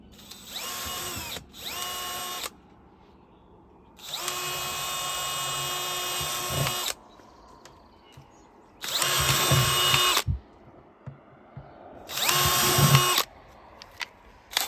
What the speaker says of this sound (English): we're going to go ahead and drill pilot holes in this bucket here